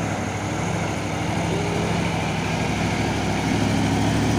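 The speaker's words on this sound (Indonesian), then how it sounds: "truk trailer Hino 500 Euro 4 membawa Isoteng" Heavy Hino 500 Euro 4 trailer truck hauling cargo up a steep uphill road, its engine a steady, loud low drone with a rough broadband rumble that holds throughout and swells slightly near the end.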